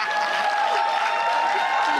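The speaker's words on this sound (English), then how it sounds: "Can we give a round of applause?" Audience applause at a live show, a steady wash of clapping filling the short moment without pause, with a faint crowd murmur and no clear voice over it.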